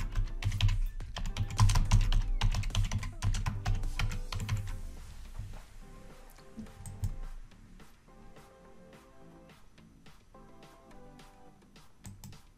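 Typing on a computer keyboard to enter a card display name, rapid clicking keystrokes in bursts, busier and louder at first and then sparser, close and clear with no talk.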